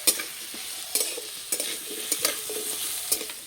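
Potatoes and other vegetables frying in a pan to soften for a spinach dish, giving a continuous hiss of hot oil broken by regular scrapes and clinks of a stirring utensil.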